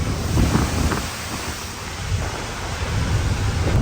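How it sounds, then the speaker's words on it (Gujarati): Steady, dense roar of heavy rain drumming on a truck with its wipers running, loud and continuous with no voices. "એટલો વરસાદ આવે છે થોડા વાઇફર ચાલુ છે"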